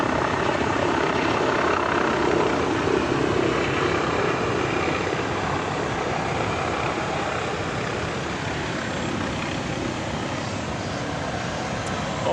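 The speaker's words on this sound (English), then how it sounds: "Oh, the helicopter landed" A helicopter landing on top of a tower produces a steady, loud rotor and engine roar that holds for the whole stretch with little change.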